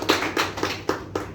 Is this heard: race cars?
no